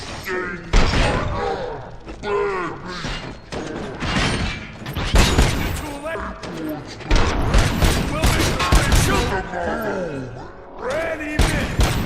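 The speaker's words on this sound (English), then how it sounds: "Am I hearing gunshots?" Gunfire erupts in the Robocop Rogue City video game, a dense run of sharp bursts and thuds mixed with booms and clanking effects, loud and close, with character voices talking over much of it.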